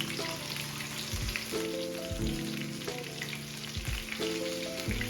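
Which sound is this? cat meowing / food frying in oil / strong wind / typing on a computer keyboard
food frying in oil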